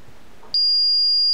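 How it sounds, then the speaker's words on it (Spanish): A Paradox security alarm panel sounds its panic alarm after being triggered from a remote control: a sudden, loud, steady high-pitched electronic tone cuts in and holds without a break. "suena alarma pánico, emergencia"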